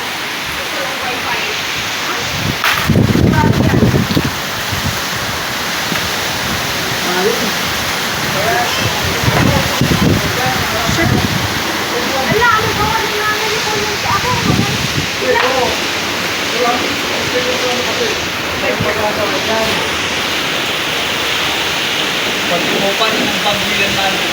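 A powerful typhoon roars with loud, dense wind and heavy rain for the whole stretch, with surging gusts and scattered knocks, and voices talking faintly underneath.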